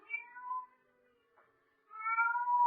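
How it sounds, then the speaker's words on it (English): A cat cries faintly in a 1948 radio mystery drama, two drawn-out plaintive meows separated by a quiet pause, the second slightly louder and rising, with no voices over them. "the faint crying of a cat"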